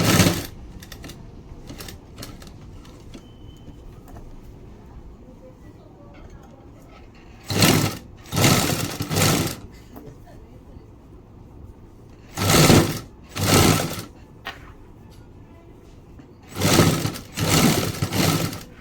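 A sewing machine stitches piping onto blouse cloth in several short bursts of loud whirring, separated by long quieter gaps of room noise.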